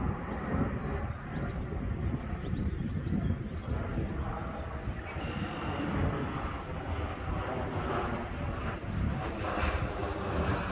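An airplane near Dulles International Airport in Northern Virginia produces a steady, broad roar that holds at an even loudness for about ten seconds, with faint wind noise mixed in.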